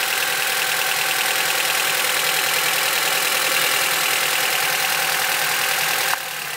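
An Acura TSX engine idles with a misfire while an ignition coil is unplugged, a steady close rumble with faint knocking that dips near the end.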